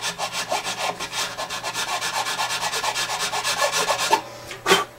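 A metal file works a guitar nut on the headstock, giving a rapid, regular back-and-forth rasp of short strokes. It is close and clear with no talking, and a couple of louder scrapes come near the end.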